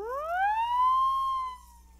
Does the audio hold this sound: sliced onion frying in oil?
no